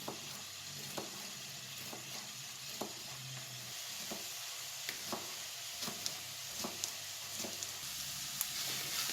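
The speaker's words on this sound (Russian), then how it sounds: "Обжариваем лук на среднем огне, периодически помешивая до мягкости лука." Onions fry steadily in a pan over medium heat, sizzling, with intermittent scraping and clinking as they are stirred.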